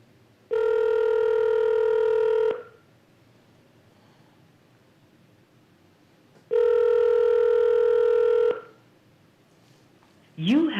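Two long steady dial or call-progress tones on a phone line, each about two seconds with a pause between, then a short burst of speech at the end.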